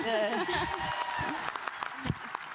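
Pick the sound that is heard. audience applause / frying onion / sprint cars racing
audience applause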